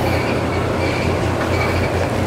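A Blue Hammer bowling ball rolls down the lane in a continuous loud rumbling roar with rhythmic clattering, heard alone.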